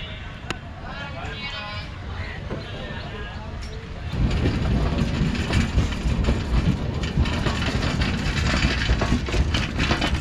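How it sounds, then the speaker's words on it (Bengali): The Kanchan Kanya Express pulls out of New Mal Junction, a small station, with a steady rumble and clatter of rolling wagons that swells sharply partway through and stays loud and close to the end. "ট্রেন চলে গেল"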